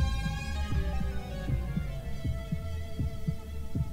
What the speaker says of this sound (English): Ooh, heartbeat.